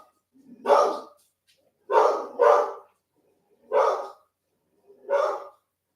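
A dog barks alone in a quiet garden, five short, loud barks close by, two of them in quick succession, separated by silent gaps.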